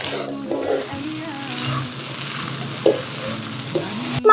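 Boiled peas are stirred into minced meat frying in a pan, a steady sizzle with scraping spoon strokes and a few sharper clinks, close by, while a person talks over it.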